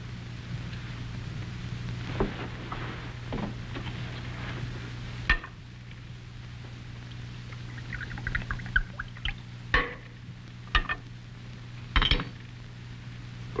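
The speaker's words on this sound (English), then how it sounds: "Glass of wine, Sanchez" Wine is poured into a glass during a scene in a dramatized Western series, with a soft trickle over room hum, punctuated by several sharp clinks of glassware and dishes.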